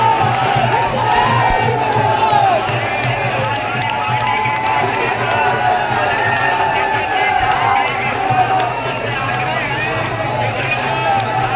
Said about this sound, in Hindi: इन तस्वीरों में देखिए किस तरह से जनता की भीड़ अखिलेश के साथ नजर आई।